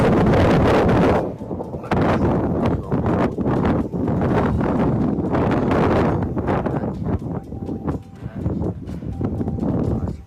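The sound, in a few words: wind blowing into microphone outdoors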